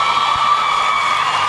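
A roller derby crowd at a Division 1 qualifying bout cheers and whoops, a steady roar of many voices filling a brief moment.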